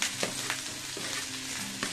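Cauliflower and green chillies tossed into a hot pan for veg chow mein: a dense, close sizzle with a few soft knocks and scrapes of stirring over a brief moment, no voices.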